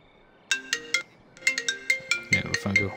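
Phone ringtone signalling an incoming call, a bright electronic melody of quick repeated tones in two bursts, the second fuller and busier, loud and close with no talk.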